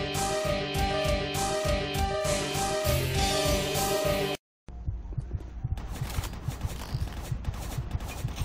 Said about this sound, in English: Chain gun battle you want? Chain gun battle you're gonna get.